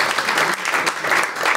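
A live audience applauds and cheers a music group at a show in Morlaàs, with dense, steady clapping and shouts filling the whole stretch at close range.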